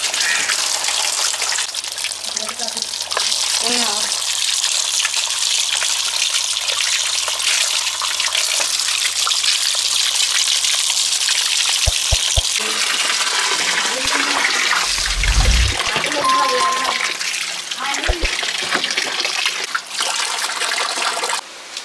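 Running tap water splashes and gushes over pineapples being washed for homemade wine, a continuous loud stream with intermittent thumps and handling clatter throughout.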